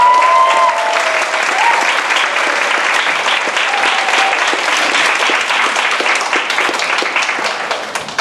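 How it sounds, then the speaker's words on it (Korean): Sustained, loud applause from a festival audience at a Korean freedom-of-expression event, greeting a professor as he is introduced; dense, steady clapping fills the full stretch and thins slightly near the end. "현창 교수님 박수 드리겠습니다."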